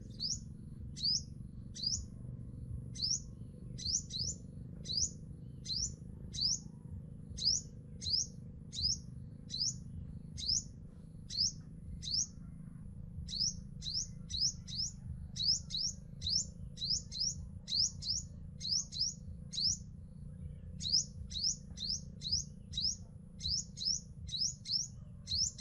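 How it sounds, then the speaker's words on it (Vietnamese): A caged pet sunbird, hung outdoors in the morning on an overcast day, sings by itself with a steady stream of thin, high, sharp chirps, often in quick pairs or clusters, over a low background rumble. "Chim treo ra sáng đang hót này mọi người."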